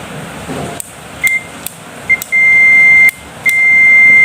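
A multimeter continuity test on the switch of a Haston electric saw gives several sharp electronic beeps, short chirps and then longer sustained tones, over a steady hum of background noise.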